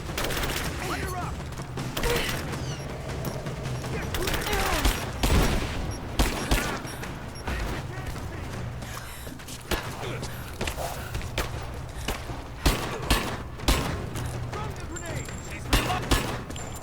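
Dense bursts of gunfire from the video game Rise of the Tomb Raider, rapid irregular shots and volleys running steadily for a long stretch amid game noise, with a voice talking at times.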